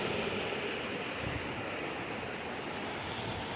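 Cold water from a stream flowing past a hot spring near Dunanda Falls, a steady broadband rush with wind buffeting the handheld microphone, continuous and fairly loud throughout.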